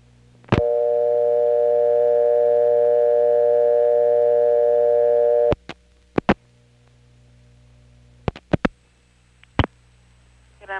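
An old Carolina Telephone line in Kenly or Clayton, North Carolina, 1970s: a steady dial tone for about five seconds cuts off, then a few sparse clicks and short pulses of dialing follow on a quiet line.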